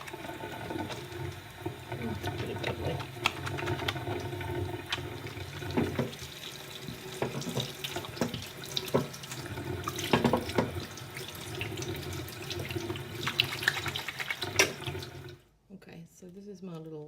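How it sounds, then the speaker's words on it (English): Water running steadily from a tap into soap mixture during hot process soap making, a continuous splashing gush under close conversational talk that stops abruptly near the end. "Let's add more water."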